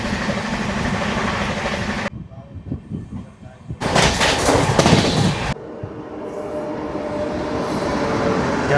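Seshadri Express with new LHB coaches running at about 130 km/h on the Kakinada to Bengaluru route, a steady loud rumble with a sharp shift midway where the noise drops, surges in a burst, then settles back into a continuous roar.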